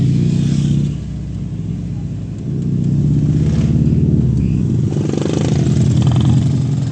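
A scooter engine runs under load on the road, a steady droning hum with rising and falling revs and a brief dip in loudness early on, close and continuous.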